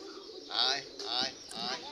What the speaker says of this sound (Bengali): এবং এখন অবধি এই কবুতরগুলো আছে।